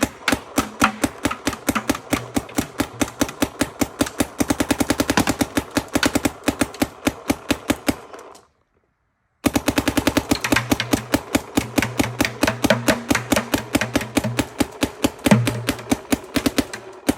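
A Shocker Amp paintball marker fires outdoors in long, rapid bursts of sharp, evenly spaced pops, with a brief silent pause midway before the steady volley resumes.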